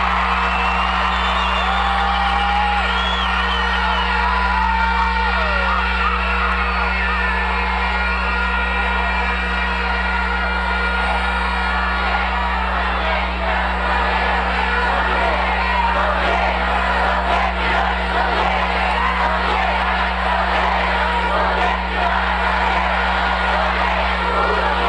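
Huge political rally crowd in Acarigua, Portuguesa, Venezuela, with Hugo Chávez, roaring continuously with cheers, whoops and shouts over a constant loud PA hum, dense and unbroken throughout.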